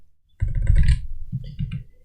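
Computer keyboard typed in bursts while entering Parse Cloud Code function definitions, giving dense, close clatter with a brief pause before a second run of keystrokes.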